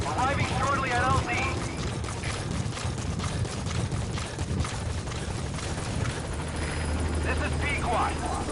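The Pequod helicopter arrives at a landing zone in Metal Gear Solid V, its rotors a steady loud chopping drone under game sounds and someone talking.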